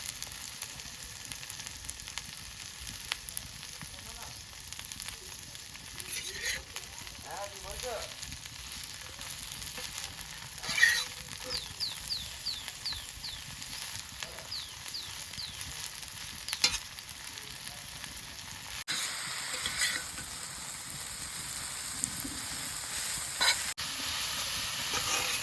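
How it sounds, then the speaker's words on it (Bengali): Pumpkin leaves fry in a pan with a soft, continuous sizzle, with occasional clinks and scrapes as they are stirred slowly, and no voices. "এরপরে আস্তে আস্তে করে নাড়িয়ে চাড়িয়ে ভেজে নিতে হবে।"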